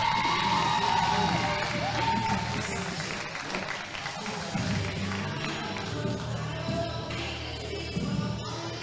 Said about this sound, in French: Applaudissements pour notre ami Audrey!